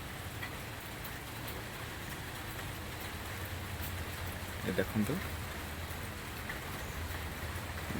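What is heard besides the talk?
heavy rain falling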